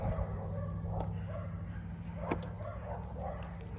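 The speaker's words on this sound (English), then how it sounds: "sounds like the evening bark is in full swing." Several dogs bark in the evening, faint and distant, with repeated yips and barks scattered over a low background hum.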